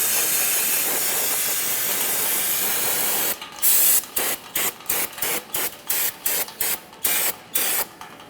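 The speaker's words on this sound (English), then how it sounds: "we're going to be using some parts cleaner to clean the area" Parts cleaner sprayed around a wheel hub and bearing area on a 2011-2020 Toyota Sienna during rear hub replacement: a steady hiss for several seconds, then a rapid run of short, sharp spray bursts.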